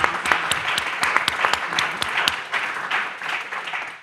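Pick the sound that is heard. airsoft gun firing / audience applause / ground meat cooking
audience applause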